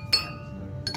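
Drinking glasses clink together during a toast at an 80th birthday celebration, two bright clinks about a second apart over a murmur of room chatter.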